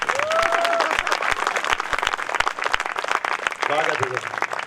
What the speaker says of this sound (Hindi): मन बनाने का मतलब है एक बार तालियां बजानी